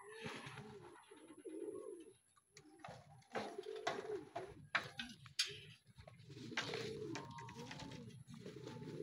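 Racing pigeons coo and call near a loft in Pakil and Lumban, Laguna, as birds come home from hard training, with soft repeated coos and fluttering scattered through moderate ambient noise.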